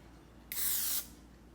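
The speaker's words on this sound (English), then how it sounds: "Always start off the spray just off the side a little bit, and then you run it through." Aerosol spray can coating plastic trim on a Range Rover L322, one short hissing burst of about half a second, close and clear against a quiet background.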